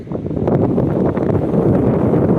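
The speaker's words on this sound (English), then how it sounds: "it's very windy, it's cold" Strong, cold wind in Holbeach buffets the microphone, a continuous low rumbling roar with gusty surges throughout.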